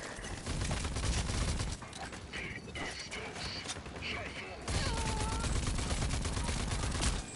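Gunfire in the Rage 2 shooter game, loud rapid bursts of shots with mechanical clatter, pausing briefly mid-way before resuming, with someone talking over it.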